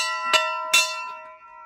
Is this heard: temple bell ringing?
yes